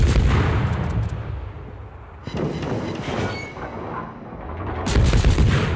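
Warship guns fire in World of Warships, heavy booming salvos rolling out with a dense rumble that swells, dips and surges again across the stretch, loud and close with no talk over it.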